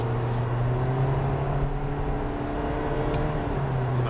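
Engine of a 2014 Toyota Corolla shifting through paddle-operated gears, a steady nearby hum with a sustained low drone and faint road noise, no talk over it.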